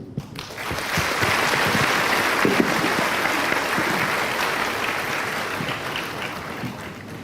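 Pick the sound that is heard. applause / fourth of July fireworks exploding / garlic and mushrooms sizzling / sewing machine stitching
applause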